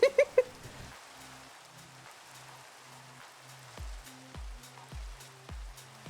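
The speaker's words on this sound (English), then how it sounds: "God, I wish it would stop raining." Rain falling in a cozy swamp village building video game, a soft steady patter under looping game music with a few sharp taps near the start.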